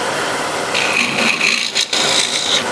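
A drill bores into a pre-drilled screw hole in wood with a continuous high grinding whir, briefly dipping once before resuming, close and loud with no talking.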